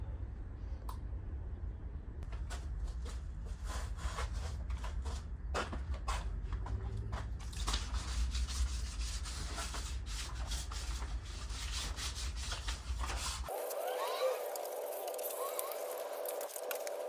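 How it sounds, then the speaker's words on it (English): Wet sanding of primer in the engine bay of a 2000 Honda Accord being prepped for a J32A1 swap makes a repeated close rubbing and scraping that stops abruptly near the end, with no speech. "I'm just gonna wet sand the primer, get everything smooth"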